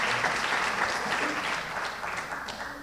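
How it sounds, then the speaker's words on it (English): Dense, continuous audience clapping at a community awards show, a warm wash of many hands that holds steady for about three seconds and eases slightly toward the end. "You can clap for that."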